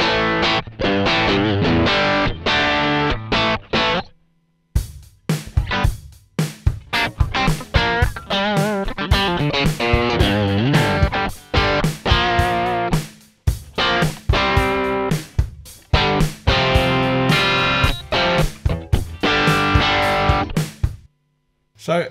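An electric guitar played through a Mosky Classic M-SA pedal set to an edge-of-breakup tone, loud chords and single-note runs with slight grit, strummed in bursts with brief pauses between phrases.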